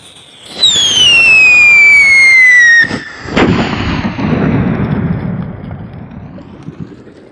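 A Whistling Thunder firecracker shrieks with a loud descending whistle, then bursts with a booming crack, followed by fading rumble and crackle.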